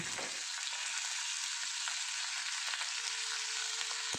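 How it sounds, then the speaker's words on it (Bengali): Ground coriander, ginger paste and turmeric fry in hot oil in a pan, giving a steady, close hiss and sizzle with a few faint scrapes of stirring and no talking. "ওয়ান স্পুন আদা বাটা এবং হলুদ গুঁড়ো মশলা ভালো করে ভেজে নিচ্ছি"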